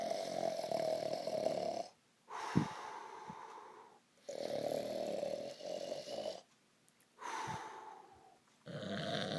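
Loud, growling snores repeat in about four long cycles with short silent pauses between them, heard close up and alone.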